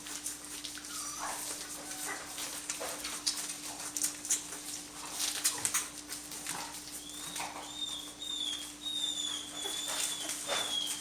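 Dogs whimpering and whining in short high cries, scattered through steady background noise with a faint constant hum, fairly close and moderately loud.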